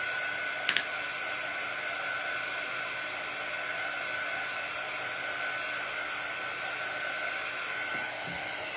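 A hair dryer blows steadily on a freshly painted ghost craft project, a constant close whirring hiss that lasts the whole time with only a brief click near the start.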